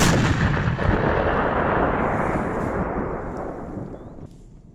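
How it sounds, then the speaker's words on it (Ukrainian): A huge, sustained blast roar from a controlled detonation of explosive ordnance fills the air, rumbling heavily and slowly fading over several seconds. "даний надзвичайно небезпечний об'єкт буде знищено шляхом підриву з дотриманням заходів безпеки."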